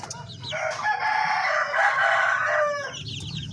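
A Darag chicken, a native Filipino breed, crows loudly in one long drawn-out call close by, with soft clucking from the flock before and after.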